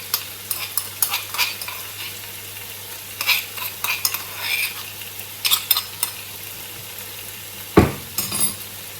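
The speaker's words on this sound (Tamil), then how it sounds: "இஞ்சியையும் ஓட சேர்த்து நான் இப்படியே வதங்க விட போகிறேன்" Ginger and tomatoes sauté in a pan for chicken biryani, with a gentle sizzle beneath repeated scraping spoon strokes and a sharp metallic clank near the end, close and without speech.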